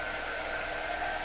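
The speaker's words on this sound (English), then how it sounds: "So I'm going to use my dryer once again" A hair dryer blows steadily on a glitter craft project, a continuous close airy whoosh with no breaks and no voices over it.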